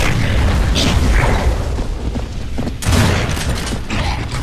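Dense, continuous gunfire and booming impacts from a pink gun in Gears of War 3, a loud chaotic mix of bursts and rumbling mechanical clatter that swells sharply partway through, with no voices.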